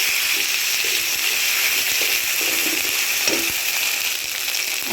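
Onions fried with ginger-garlic paste for a potato and tomato curry sizzle and hiss steadily in hot oil, broken by soft scraping stirs and occasional clatters, close and continuous.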